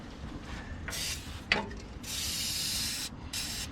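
Liquid Wrench penetrating lubricant sprayed from a can onto a long-buried Ford bumpside pickup, heard as several short hissing bursts with brief pauses and a small clink between them.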